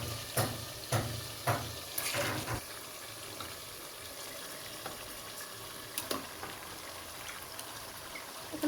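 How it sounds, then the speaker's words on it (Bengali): Chicken pieces drop into a pan of fried spices for a restaurant-style Bangladeshi chicken curry, setting off a steady low sizzle with a few sharp clatters and stirring knocks early on, then settling into continuous frying. "এখন আমি মাংসগুলো অ্যাড করে দেব।"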